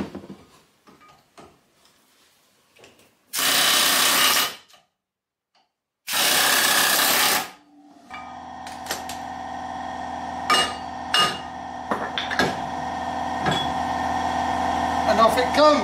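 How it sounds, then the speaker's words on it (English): An air chisel works loose a Ford Transit front wheel bearing, with two loud sustained bursts of hammering, then a running tool hum with sharp metallic knocks, close up. "So I'm going to try opening it up with an air chisel."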